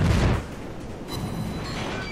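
A New York battleship in World of Warships fires its main guns, one heavy booming blast at the start that rolls off into a rumbling tail and distant ambient noise.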